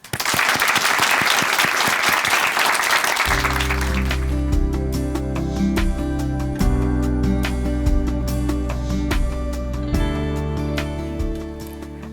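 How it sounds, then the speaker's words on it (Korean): A church audience at Chuncheon Hanmaum Church claps to welcome a testimony speaker: dense, loud applause fills the first few seconds, then fades as steady instrumental music takes over and continues alone. "박수로 맞아주시죠"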